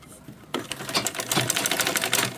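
A sewing machine stitching a handle onto a fabric purse organizer bag starts abruptly and runs in a fast, loud, even clatter of needle strokes close to the microphone.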